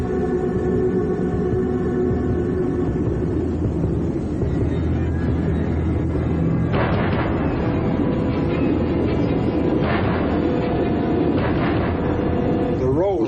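A tornado roars loudly and continuously, a dense rumbling like a passing train that swells and throbs, with a voice underneath.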